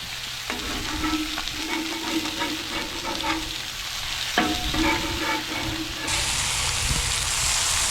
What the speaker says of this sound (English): it smells so good cooking bacon on this